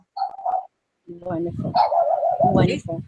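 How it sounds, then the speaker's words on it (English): A dog barks a few times in the background of an interview, the short yips mixing with speech as people talk. "sorry for my dog bark"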